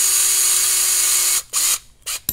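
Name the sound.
power tool driving screws in TRX-4 kit build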